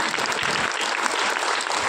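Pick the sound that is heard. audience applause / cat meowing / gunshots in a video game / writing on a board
audience applause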